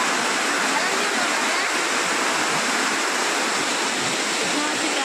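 Water rushes through a jungle in a constant, full, hissing roar, like a nearby stream or waterfall, steady throughout with no break.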